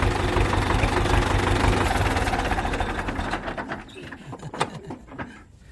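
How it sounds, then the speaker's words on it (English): An old tractor in Cuba with no starter motor runs after a bump start, its loud, rapid knocking engine chugging close by before easing off into sputtering, uneven beats, with voices faintly present. "It doesn't have a starter motor, so he can only bump start his tractor."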